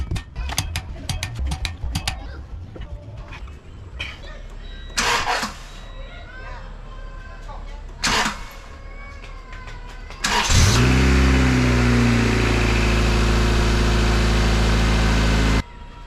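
A car engine cranks and catches after a stretch of clanking tool work, then runs loud and rough with revving through the final five seconds.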